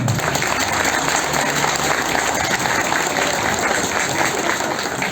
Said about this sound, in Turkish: güçlü bir alkış istiyorum